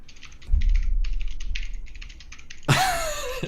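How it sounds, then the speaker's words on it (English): Computer keyboard keys clicking in quick, irregular bursts of close typing, with a brief pause and then a louder clatter toward the end. "hear the keyboard clicking"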